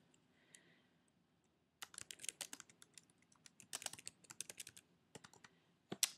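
Fingers typing on a computer keyboard in a quiet room, starting after a near-silent pause, then bursts of crisp, close keystrokes in uneven runs with a final cluster of clicks.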